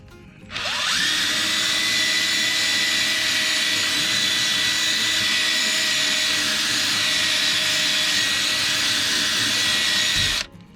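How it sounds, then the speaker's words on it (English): An upholstery extractor whines up and runs steadily for about ten seconds while cleaning a stain from car seat fabric, loud and close, then cuts off abruptly. "hit it with the brush, hit it with the extractor"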